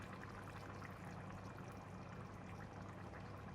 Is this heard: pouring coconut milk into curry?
yes